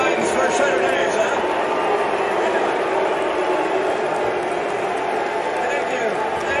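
A large crowd at a Utah Republican convention boos Mitt Romney, a loud, dense and unbroken roar of jeers that holds steady at close range for the whole stretch.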